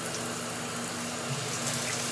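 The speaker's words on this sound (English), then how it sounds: "I'm gonna rinse out my hair now." Water running steadily in a shower as natural hair is rinsed out, a continuous close hiss and splash with no talking.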